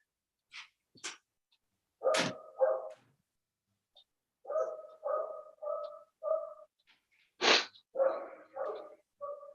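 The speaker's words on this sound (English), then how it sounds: "I have been hearing this dog all along" A dog barking repeatedly during a gathering, a couple of short yelps followed by runs of fairly close barks in spaced clusters, with quiet gaps between.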